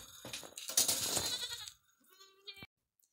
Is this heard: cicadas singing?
no